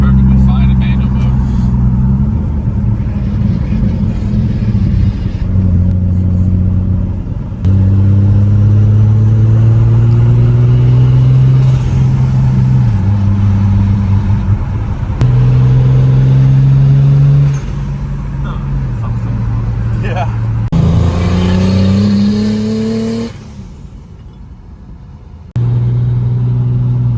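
A turbocharged BMW E36 with an 8HP70 automatic accelerates hard on the autobahn, its engine climbing repeatedly through stepped gear changes under loud, steady road and wind rumble. A voice speaks over it.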